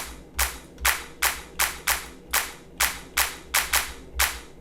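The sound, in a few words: hard clap sample, low frequencies cut, FL Studio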